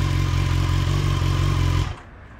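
A 2020 BMW S1000R motorcycle on its stock exhaust holds a loud, close, rumbling rev, then cuts off sharply near the end and leaves only a faint tail.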